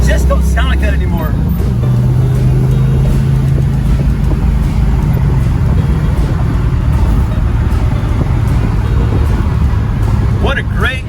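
A 1968 Plymouth Road Runner pulls away from a red light, its engine a loud, steady, close rumble that holds strong with a rising drone as the car drives on.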